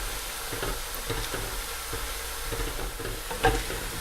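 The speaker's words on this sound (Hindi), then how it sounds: "अभी प्याज फ्राई हो रहे हैं" Onions sizzle steadily in a pan over a strong, high-flame stove, a close, continuous frying hiss with light crackle and a brief louder spatter near the end, no voices.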